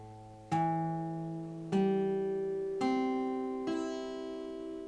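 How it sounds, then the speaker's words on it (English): Four guitar strings are plucked one at a time while a chord is held down, each note ringing out and slowly decaying before the next, clear and close in a quiet room. "I want you to play each string so that you can hear if they all sound out."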